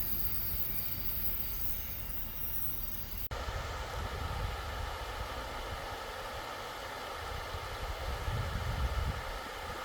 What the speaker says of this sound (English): getting to see that train come up the tracks